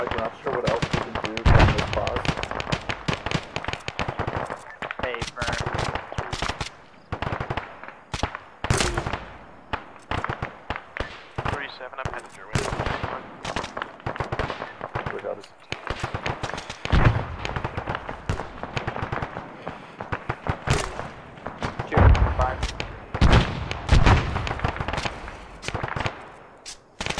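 Rapid gunfire rattles through a military firefight in the video game ArmA 3, with dense overlapping bursts and single shots near and far throughout, while players talk over radio.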